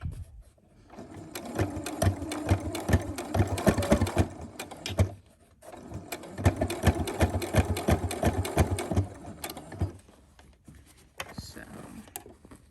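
Sewing machine stitching a fabric mask through several thick layers, running in two rapid, rattling bursts separated by a short pause, close and fairly quiet.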